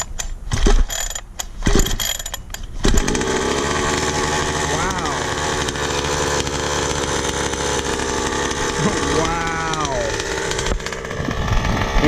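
Rovan Baja 5B 45cc two-stroke RC car engine running on its first start: a loud, close, buzzy idle that rises in brief revs, after a few sharp pull-start clatters at the beginning.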